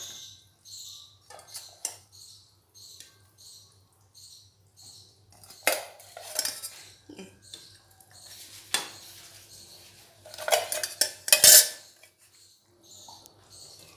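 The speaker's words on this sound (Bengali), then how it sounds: "মাছগুলি দিয়ে খুব ভালোভাবে নাড়াচাড়া করে নিয়েছি।" A spatula clinks and scrapes in a pan as fried fish pieces are stirred into a yogurt curry (doi katla), giving intermittent close taps and scrapes with brief louder knocks.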